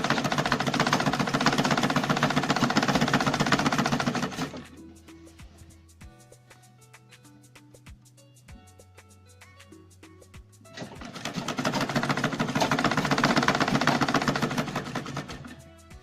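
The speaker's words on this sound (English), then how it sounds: "put my lever down and just go ahead and stitch" A sewing machine stitches fabric for a spaghetti-strap top, running in two loud, steady bursts of rapid needle whirring. A quieter pause with faint mechanical ticks and a low hum separates the bursts, and no one speaks.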